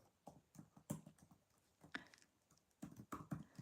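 Quiet keyboard typing while entering text into Google Translate, with irregular soft key taps in small clusters separated by short pauses, close and faint.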